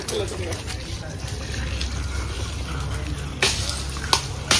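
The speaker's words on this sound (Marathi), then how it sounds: "चिमू पाणी घालतोय पाणी झाडांना पाणी शिपतोय" Water is splashed onto plants in a Konkan village, an intermittent wet pouring and spattering, with faint voices and background bustle around it.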